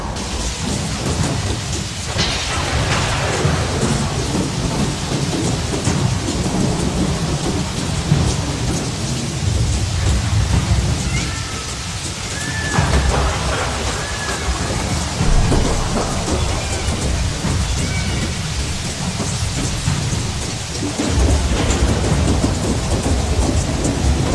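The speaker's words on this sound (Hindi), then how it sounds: "एक दिन बारिश आई, ऐसी बारिश जैसे आसमान फट गया हो।" Heavy rain pours continuously, with deep rumbles of thunder rolling through at intervals; no voices.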